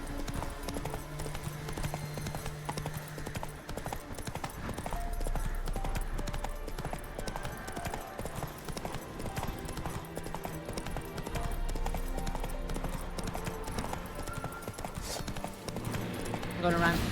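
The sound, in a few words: horse Roach galloping, hoof clip-clop, Witcher video game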